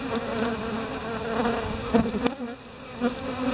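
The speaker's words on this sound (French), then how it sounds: "On voit bien que les abeilles ne viennent pas toutes se grouper autour du frelon, mais elles sont un peu partout et n'importe où." A swarm of honey bees defending their hive against a hornet, a dense, loud, close buzzing that swells and dips continuously, with brief sharper wingbeat bursts.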